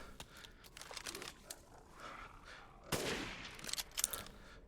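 Gunfire in the Resident Evil Village video game, a few sharp quiet shots and crackling bursts scattered over several seconds, with a louder burst partway through, amid low game ambience.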